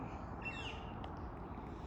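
A single crow caws faintly in the distance on a summer day outdoors, over steady broadband background noise.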